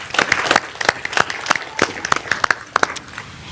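Scattered applause from a small audience at a board meeting, honoring longtime staff member Miss Washington; individual claps ring out in an uneven, sparse rhythm for a few seconds.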